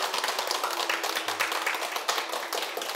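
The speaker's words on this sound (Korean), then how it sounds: "자, 우리가 다 같이 고마운 박수 한번 칠까요?" A live audience at a Korean Sunday dharma talk claps together in thanks, a steady patter of many hands at moderate volume with no voices over it.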